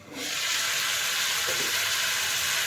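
Ridge gourd and onion sauté in hot oil in a pan, a loud continuous sizzle that swells in at the start and holds steady close up.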